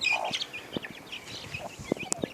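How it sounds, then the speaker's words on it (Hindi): Young chicken chicks beside their mother hen give soft, scattered peeps and chirps, with a few brief clucks mixed in at a close, quiet level. "ये मुर्गी के चूज़े"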